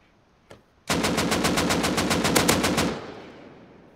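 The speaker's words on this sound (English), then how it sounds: "You guys, you could probably hear a lot of shooting." A single shot followed by a sustained rapid burst of automatic gunfire in a raiding video game, loud and close, cutting off abruptly and leaving a fading tail.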